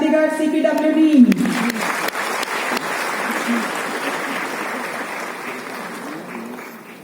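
Sustained applause from a ceremony audience at a CPWD foundation day medal presentation, a speaking voice over the opening second before the dense clapping carries on steadily and gradually fades toward the end.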